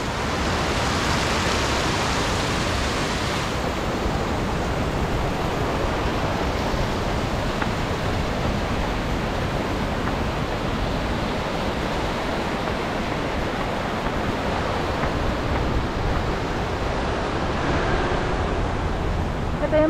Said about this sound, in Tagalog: Daming tubig dito, guys.